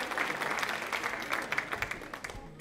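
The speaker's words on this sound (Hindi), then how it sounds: "तालियां जोरों से बजाइए उन्हीं के लिए।" Loud audience applause for a contestant on a televised quiz show, with crisp, dense clapping from a studio crowd that gradually thins toward the end.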